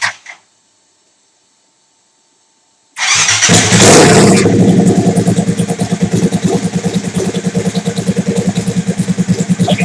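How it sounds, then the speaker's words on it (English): A turbocharged Suzuki TL1000R motorcycle engine cranks briefly, falls silent, then fires up loudly and settles into a steady, pulsing idle close by. "Let me turn the bike over."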